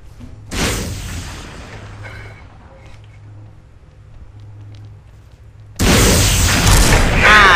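Two loud, sustained bursts of video-game gunfire blasts, one early and one near the end, with quiet mechanical clicks and a low hum in between.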